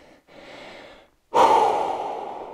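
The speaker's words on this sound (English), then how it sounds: "let that breathing come back under control slowly" Heavy breathing after a home dumbbell workout exercise: a few deep, audible inhale-exhale cycles, with a sharp loud gasping breath partway through, then a long strong exhale, close and unaccompanied by talk.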